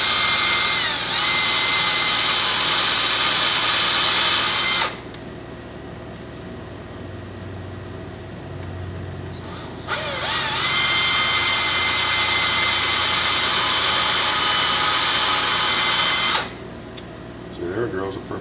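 A power drill chucked with a bit bores a perfect hole through the center of a wooden dowel while carving a wooden coffee pot, whining loudly in two long steady bursts separated by a quieter pause, close up.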